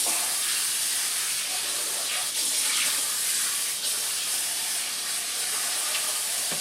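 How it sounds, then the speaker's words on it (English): Tap water runs steadily as a bowl is rinsed in a kitchen while making homemade deer jerky, a constant close hiss with small splashy shifts and no talking. "Let me rinse this bowl out right quick."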